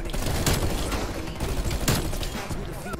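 Rapid gunfire from the Bullfrog weapon in a video game, a continuous dense stream of shots with a few sharper bursts standing out, while players talk over it.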